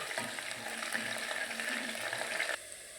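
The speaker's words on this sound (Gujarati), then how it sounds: "લસણ અને મરચાંને પાકવા દઈએ." Garlic and green chili frying in a pan, a steady close sizzle that holds evenly for a few seconds before dropping abruptly quieter near the end, with no talking.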